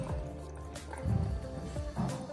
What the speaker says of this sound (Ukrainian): І видих саме у воду.